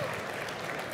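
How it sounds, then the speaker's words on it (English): An audience at a startup pitch competition applauds, a dense steady wash of clapping from many hands filling the room for about a second. "Let's give a warm round of applause again for AmberSearch."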